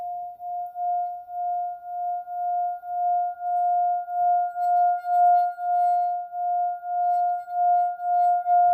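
A singing bowl rubbed around its rim sings a pure, sustained ringing tone with a gentle pulsing waver. It holds steady and swells slightly louder over several seconds, alone and close.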